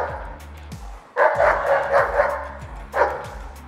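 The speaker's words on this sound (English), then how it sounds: "Sexy barking, we like that." A German Shepherd barks close by during protection dog training, a burst of rapid repeated barks followed by a pause and one more loud bark, with steady low background noise.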